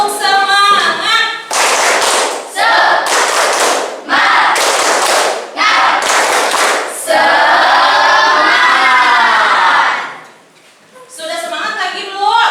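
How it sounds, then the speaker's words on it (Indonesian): Standing crowd performs the rhythmic 'tepuk semangat' cheer clap, loud bursts of patterned clapping broken by short pauses, with a sustained group shout in the middle and voices throughout. "Tepuk semangat."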